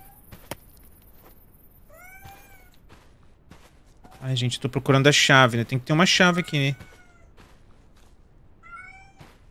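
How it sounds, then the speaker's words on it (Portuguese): A cat in a video game gives several short, distinct meows near the start and again near the end, with a person talking loudly in between. "Cala a boca, gato. A gente vai morrer aqui se ficar miando."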